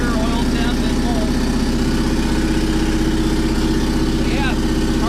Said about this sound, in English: So yeah, car actually started right up.